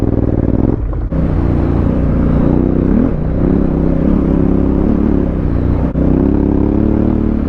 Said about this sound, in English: It's like a big dual sport bike more than an adventure bike